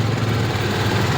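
A small engine running steadily after a repair with a weak regulator supply, a close, loud, continuous low drone with no break.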